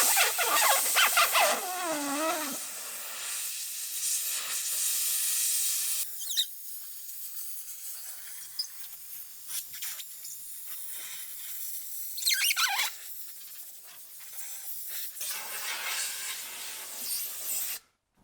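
Compressed air from an air compressor blasts water out of the corners of a car headlight lens, a series of close, loud hissing bursts with squealing edges, broken by short pauses.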